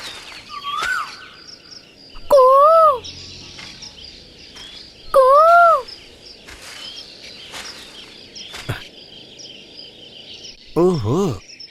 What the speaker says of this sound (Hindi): कोयल के साथ कूक रही है।